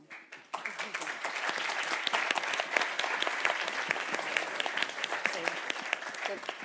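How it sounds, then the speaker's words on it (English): Audience applause at a food banking conference session, a dense, sustained burst of many hands clapping that rises quickly and holds steady at moderate volume throughout. "and applause for them."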